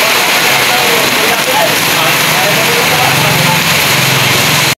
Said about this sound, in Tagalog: naabutan na po kami ng ulan